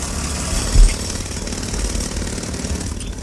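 A jackhammer pounds at a construction site in a fast, steady rattle that carries on without a break. It is loud and close, with one heavier thud early on and no talk.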